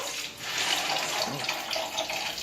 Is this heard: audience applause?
no